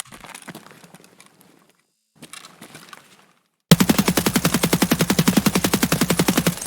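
SCAR rifle firing full-auto in the video game Escape from Tarkov, a sudden loud, rapid, evenly paced burst lasting about three seconds, preceded by quieter shuffling and handling noises.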